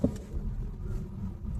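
A car rolls slowly in first gear over a high speed bump on a narrow neighbourhood lane, producing a low, steady rumble with a soft thump near the start.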